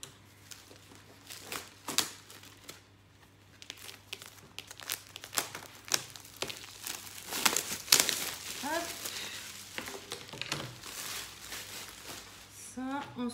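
Protective film being peeled off a plexiglass picture frame, giving a series of crinkling, tearing rustles with sharp crackles, close and fairly quiet, with a faint low hum underneath.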